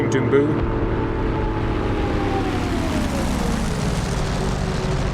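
A WWII-era propeller aircraft engine drones steadily in a flight video game as the plane rolls into a steep dive, its pitch sliding slowly downward, loud and continuous throughout.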